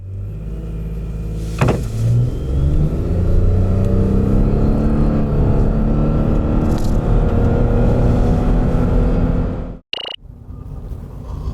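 A 2021 Lexus RX450hL hybrid SUV accelerates hard in a performance test, its engine note climbing steadily from a surge of noise into a sustained roar that suddenly cuts off near the end.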